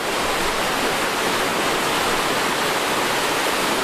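Water rushes over a weir at the outlet channel of Lake Victoria, a loud, steady, close roar of white-noise-like flow with no talk.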